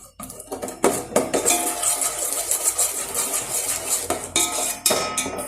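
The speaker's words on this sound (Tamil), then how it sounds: "இந்த டைமில் நல்லா கிளறி விட்டுட்டே இருங்க." Spoon scraping and clinking against a pan while white sugar is stirred as it melts, a busy run of metallic taps and scrapes, close and fairly loud with no talking.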